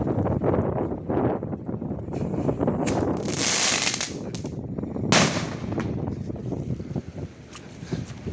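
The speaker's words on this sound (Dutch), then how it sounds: "En de titanium crackling." Rapid crackling pops and sharp bangs from a titanium crackling firework burst outdoors amid wind noise, a dense sputtering of small explosions with a couple of louder hissing flashes.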